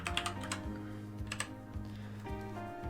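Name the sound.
typing on a computer keyboard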